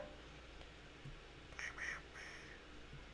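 A person imitates the Donald Duck cartoon voice in a few short, faint, raspy quacking bursts, alone against a quiet room background.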